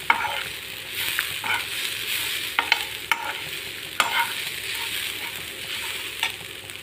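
Grated coconut sautéed in a pan for coriander and curry leaf chammanthi, gentle sizzling under repeated scraping strokes of a spoon against the pan, close and clear, with no speech.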